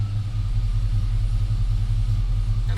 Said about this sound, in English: Let the idle come all the way back down, and then we shut it off.